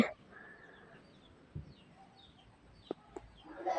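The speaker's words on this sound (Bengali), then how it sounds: "বাড়িতে এখন হাঁস মুরগিদের ছেড়ে দেওয়া হয়েছে।" Scattered calls from ducks and chickens loose in a village yard, a few short clucks and squawks against quiet outdoor background, no talking.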